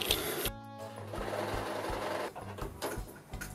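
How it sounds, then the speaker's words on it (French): A domestic sewing machine stitches around a garment sleeve, its needle motor running in a fast, close, steady whir with brief pauses and restarts. "Et je vais venir coudre tout le contour."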